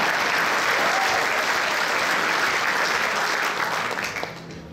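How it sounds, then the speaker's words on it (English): Loud, sustained audience applause fills a Republican club meeting hall, a dense wash of many hands clapping steadily before tapering off near the end. "so I expect applause"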